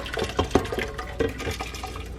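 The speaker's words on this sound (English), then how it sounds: "this next step is he's adding the veggies and clam juice" Vegetables and clam juice are tipped into a cooking pot, giving soft wet splashes, plops and liquid pouring, a close, uneven run of small thuds and sloshes with no talk.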